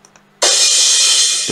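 A crash cymbal set from a virtual instrument plugin is struck once, bursting into a loud, bright, sustained wash that rings steadily before cutting off.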